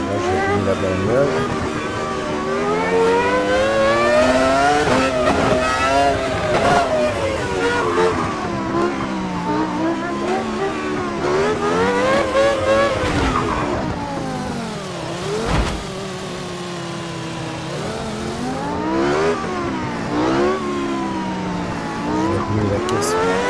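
A car engine in a racing game revs up and down continuously, its pitch rising and falling in loud harmonic sweeps across the whole stretch, with a voice talking over it at times.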